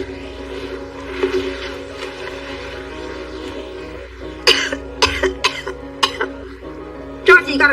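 A person coughs repeatedly in short, harsh bursts, close and loud, with a throat-clearing quality, over a low steady background hum.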